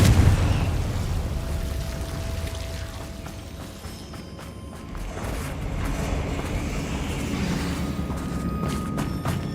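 A Confringo spell explodes in the video game Hogwarts Legacy. It sounds like a loud, booming burst that rolls on as a sustained rumbling crackle, dipping slightly midway before swelling again.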